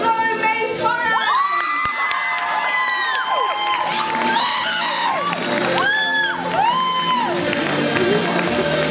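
A young audience at the Jack Petchey Speak Out Challenge public-speaking event in London cheers, whoops and shouts loudly and continuously for a speaker, with rising and falling excited voices filling the whole stretch.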